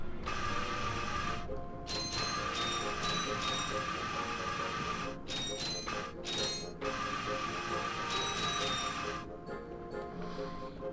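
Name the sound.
Ratchet grinding on a rail in video game Ratchet & Clank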